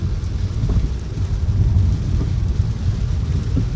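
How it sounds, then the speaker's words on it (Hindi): Heavy rain pours steadily with a dense, low rumbling wash, constant and loud throughout, with no voices. "तो बारिश काफ़ी तेज़ हो गई है।"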